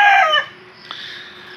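Backyard fighting roosters crowing, a loud near crow that fades after about half a second, then a faint distant crow with steady background hum.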